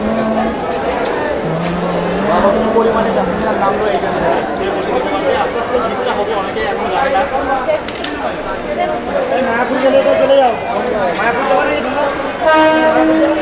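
A crowded local train from Sealdah rumbles into a busy station on a new line to Mayapur, over steady crowd chatter and commotion, with brief horn-like tones rising near the end.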